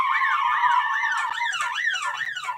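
A loud British police car siren wails continuously, sweeping up and down in a steady rising-falling pattern that quickens partway through.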